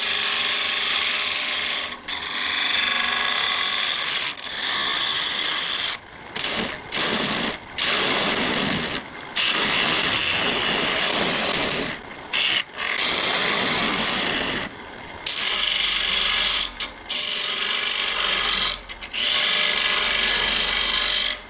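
A woodturning gouge takes short cuts into a spinning tiger-striped maple coin tray on a lathe, making a loud, continuous scraping whir broken by several brief pauses between passes.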